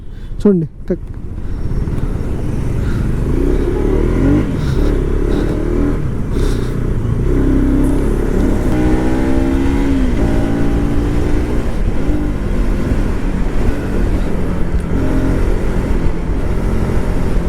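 A KTM Adventure 250 motorcycle accelerates hard through its gears, the engine note rising and falling in steady, loud sweeps close to the microphone, with wind rush throughout and a rider talking over it.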